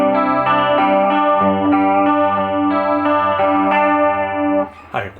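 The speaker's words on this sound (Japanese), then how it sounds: "で、エフェクターですね、コーラス。" A Gibson ES335 electric guitar runs through a Roland CUBE Street EX amp with the chorus effect on, playing steady, sustained chords that sound wide and gently wavering. The playing is loud and continuous, with no voices.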